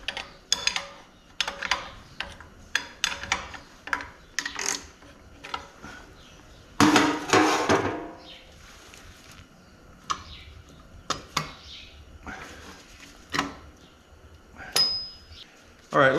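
A puller is turned to draw a sleeve out of a 1952 Case DC tractor engine, giving sparse metallic ticks and ratcheting clicks in irregular bursts up close, with a louder scraping clatter midway and brief pauses between turns.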